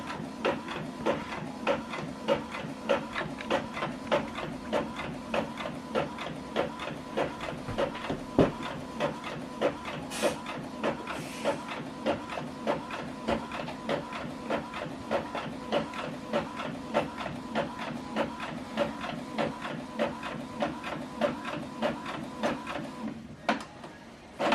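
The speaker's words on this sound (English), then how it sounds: "this document is going to print out one page double-sided" An Epson WF2830 inkjet printer runs a double-sided print job, its mechanism chugging in a steady rhythmic pulse close by for the whole stretch, with brief whirring passes partway through and no voices.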